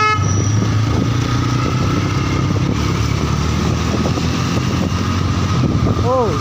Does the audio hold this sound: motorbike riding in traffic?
yes